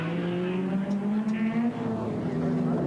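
Touring cars racing at Symmons Plains in the 1987 Australian Touring Car Championship, a loud engine wailing at high revs and climbing steadily, with faint overlapping car noise behind it.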